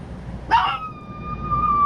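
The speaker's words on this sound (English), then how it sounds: "Hey, stop barking. Stop barking, girl." A female dog gives a single sharp bark or yelp, close and fairly loud, followed by a thin lingering high whine over a low background rumble.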